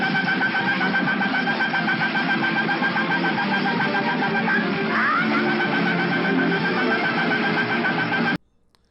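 The thousand-fist strike sound from the TAXAN game Fist of the North Star, a dense, rapid electronic rattle of repeated hits, buzzing and chattering continuously for about eight seconds before cutting off abruptly.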